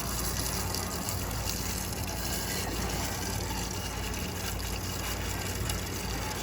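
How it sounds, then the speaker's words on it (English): Tap water pours steadily into a large container of about four gallons, a constant loud gushing hiss that runs unbroken throughout, with no talking. "I have this as a tap water source, and I'm just gonna put it in here."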